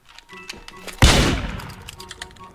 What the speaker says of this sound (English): I hear a gun